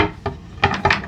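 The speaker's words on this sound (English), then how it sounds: "Alright, getting a knife." A kitchen knife picked up for preparing a simple tilapia, carrot and curry rice dinner gives a few short clacks and a light scrape, with two closer clinks near the end.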